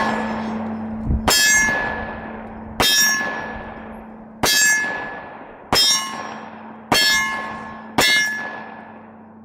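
Cugir Tokarov 7.62x25mm pistol fired at a steel target, six evenly spaced ringing clangs, each a sharp strike followed by a decaying metallic ring, heard at a distance with no talk.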